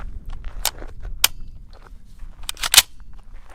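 Shots from a UTAS UT9M 9mm pistol-caliber carbine fed from a factory Glock 17 magazine: several sharp, loud reports spaced irregularly, two of them close together near the end, over low background rumble.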